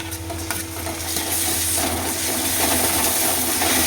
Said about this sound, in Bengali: পেঁয়াজটা লাল ভাজা হয়ে গেছে, এবার আমি দেবো রসুন বাটা